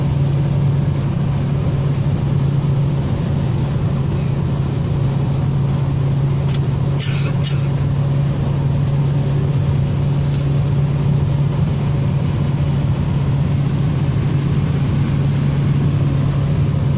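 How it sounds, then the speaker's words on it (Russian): A column of KAMAZ trucks drives past as a steady, loud engine drone with a strong low hum, continuous throughout, with brief brighter hiss and clatter bursts mid-pass and no talk. "Колонна грузовиков КАМАЗов"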